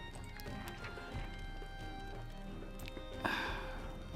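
Horses' hooves clip-clop steadily in the medieval fantasy game Wartales, a soft rhythmic trot under a droning musical score, with no talk.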